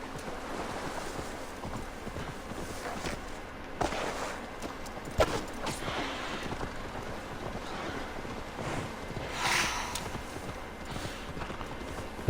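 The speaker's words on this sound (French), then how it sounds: "Allez, vas-y, mon cheval." A horse's hooves clip-clop in a quick, steady gallop in Assassin's Creed Valhalla, over a soft background of wind and water, with a few sharper thuds along the way.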